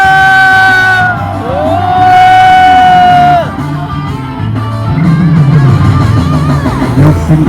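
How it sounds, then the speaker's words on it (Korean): A crowd at an outdoor labour rally and cultural gathering shouts together in loud, sustained cheers and whoops, rising and falling in waves with a few higher voices sliding above the mass. "다같이 함성."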